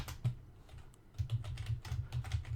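Keys clatter on a computer keyboard in quick, uneven bursts while text is typed into a graphic design program, close and fairly soft with no talk.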